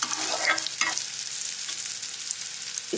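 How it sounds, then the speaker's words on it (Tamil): Grated potato mixture for an evening snack sautéing in a pan: a steady bright sizzle and frying hiss throughout, with a few scraping stirs of a spoon, close and with no talk. "நல்லா வதக்கிக்கோங்க. இப்போ இந்த மாதிரி நல்லா வதங்கட்டும்."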